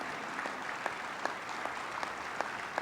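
Applause from an evening civic audience at a city's State of the City address, steady mid-level clapping with scattered sharper claps standing out, continuing without voices.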